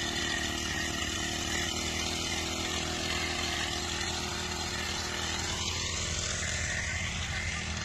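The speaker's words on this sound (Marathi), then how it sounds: "हा पेट्रोलवरचा पंप जरा जास्तच फवारा देतो." A petrol-powered sprayer pump runs in a cotton field with a loud, steady two-stroke engine drone that stays close and constant throughout, and no talking.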